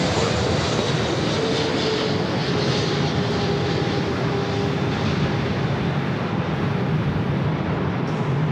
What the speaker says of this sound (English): Japan Airlines Dreamliner coming in from Osaka, Japan, now crossing over 24 left